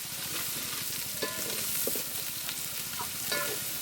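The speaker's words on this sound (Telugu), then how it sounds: "పసుపు వేసినాక బాగా కలుపుకోవాలి" Turmeric stirred into a frying base of onion, ginger paste and green chillies for chicken curry, with steady sizzling under scattered scraping stir strokes, close and continuous.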